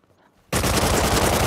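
Loud, sustained automatic gunfire in Rust Console Edition, bursting in abruptly after a near-silent start and continuing as a dense, rapid stream of shots.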